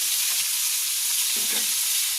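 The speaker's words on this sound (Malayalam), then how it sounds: "മീൻ പൊരിക്കാൻ ഒരിത്തിരി തീ മതിയല്ലേ" Fish frying in hot oil over a flame turned up too high, giving a steady, close, broadband sizzle that holds evenly throughout with no voices.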